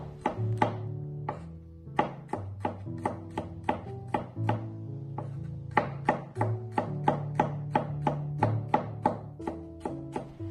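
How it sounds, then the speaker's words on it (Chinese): A knife slices peeled garlic cloves into thin slices on a cutting board, making rapid, evenly spaced sharp taps close up with short pauses between runs and no voices. "我们准备几粒去皮的大蒜切成薄片"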